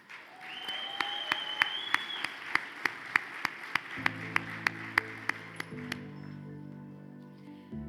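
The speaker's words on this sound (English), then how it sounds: "A round of applause for Ryan Gardner, CEO of Bucked Up." At an awards event, hands clap in a sharp, steady beat over music playing in the background, fairly faint and even in tempo.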